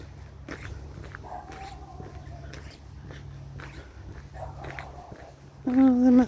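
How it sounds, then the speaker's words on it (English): Several distant dog barks come in short scattered bursts over steady outdoor ambience, then a louder harmonic yelp near the end. "there must be some dogs barking over there on that end"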